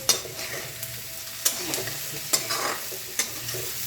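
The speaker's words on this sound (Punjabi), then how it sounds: "ਇਹਨੂੰ ਆਪਾਂ ਕਰ ਲਾਂਗੇ ਮਿਕਸ" A vegetable dish is stirred in a pan over low sizzling, with four sharp scraping strokes of a spoon spaced about a second apart, close by, with no voices.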